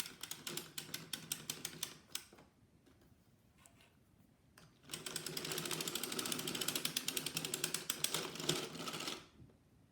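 A circular sock knitting machine clatters as the knitting is pulled off, first as quick regular ticks, then a short pause with scattered clicks, then a long dense burst of rapid ratcheting, close and alone.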